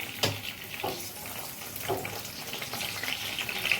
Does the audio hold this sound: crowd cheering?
no